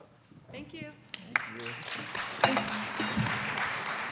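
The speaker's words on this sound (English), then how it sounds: "One last round of applause for the panel" An audience applauds a panel at the close of a university symposium day on student experience, a spread of hand clapping that builds and continues under a voice giving thanks.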